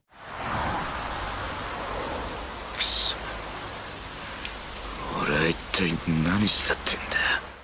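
Steady rain falls on a surface as a continuous hiss, with brief chirps and tonal voice-like sounds breaking through near the end.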